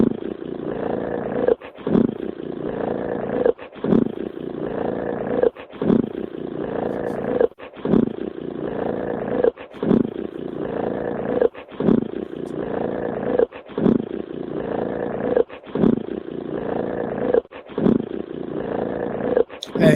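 A low, steady purring hum credited to a Sasquatch repeats in regular pulses with brief gaps, loud and close, continuing throughout without clear speech.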